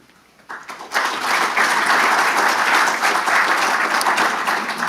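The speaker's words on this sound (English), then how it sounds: "I think the clapping might be premature" Audience applause at a Canberra Day lecture hosted by a district historical society, dense steady clapping that swells in within the first second and holds loud and even to the end, with no talk over it.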